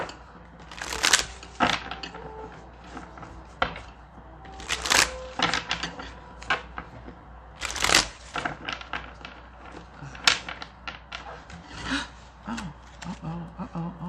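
Tarot cards are shuffled in repeated riffling bursts, crisp and close, with soft handling noises and quiet rustling between them.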